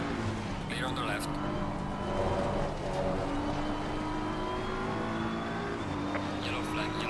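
Race cars in the Assetto Corsa Competizione video game during a Barcelona league race, a steady engine drone and shifting revs with the whoosh of cars passing nearby, a voice talking over the top.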